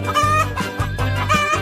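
Chicken clucking and crowing up close, a run of loud, repeated clucks with no voices over them.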